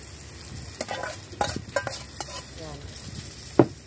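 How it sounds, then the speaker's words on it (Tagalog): Mung beans and shrimp sautéing in a pan, with a soft background sizzle broken by several sharp scraping stirs and clinks of a utensil against the pan, one louder near the end. A voice briefly speaks once. "So, igisa na natin to."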